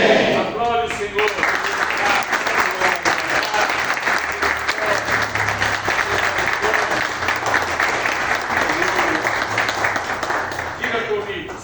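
A church congregation applauding during a communion service: dense, sustained clapping from many hands that fills the room for several seconds, loud and close, with voices mixed in beneath it.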